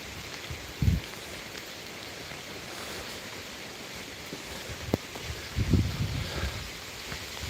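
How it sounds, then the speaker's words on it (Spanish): Rain falls outdoors at night as a steady, hissing patter, broken by a few louder nearby thumps and rustles, with no talk. "como llueve"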